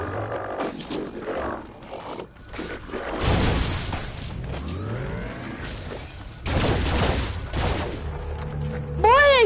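Sci-fi gunfire in the Farpoint VR shooter: bursts of loud blasts and booms mixed with roaring creature cries and whooshing effects, with a rising synthetic chirp at the end.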